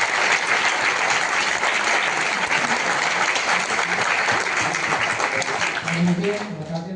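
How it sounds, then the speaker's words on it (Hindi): An audience at a training program in Delhi claps loudly and steadily for several seconds, a dense burst of applause that eases slightly toward the end. "एक बार जोरदार तालियां होनी"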